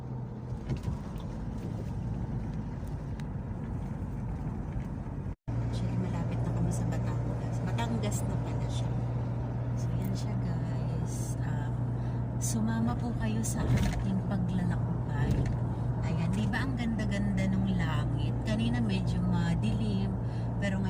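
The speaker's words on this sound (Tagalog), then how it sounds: "medyo marami po siyang sasakyan ngayon" Busy road traffic with many vehicles passing, a continuous loud rumble of engines and road noise with a brief cut early on, someone talking over it throughout.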